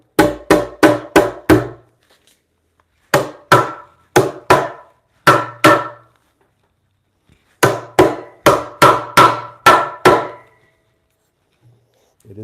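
Heavier mallet striking a chisel to seat a mortise and tenon joint for a wooden bunk bed, sharp close knocks in quick bursts of four to six blows separated by short pauses.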